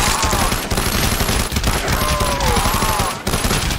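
Rapid automatic gunfire mowing down zombies in Call of Duty Zombies on the Origins map, played in VR: loud, nearly continuous shots with short gaps, over thin tonal game effects.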